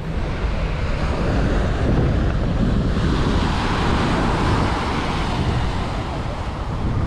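Ocean waves wash onto a beach with some sargassum on the shore, a continuous broad roar of surf mixed with wind buffeting the microphone. It stays steady and fairly loud for the whole stretch, with no voices.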